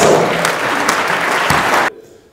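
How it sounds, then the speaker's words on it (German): Audience applause at a formal farewell gala evening, loud and dense clapping that holds steady, then cuts off abruptly near the end, leaving a quiet room. "Bitte Applaus für Dr."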